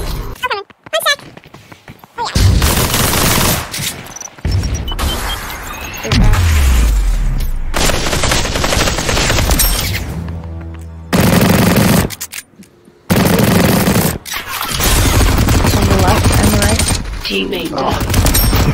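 Rapid machine-gun bursts and single gunshots from the VR battle royale Population: ONE ring out loud and close in repeated volleys, broken by short silent gaps. A player talks intermittently over the shooting.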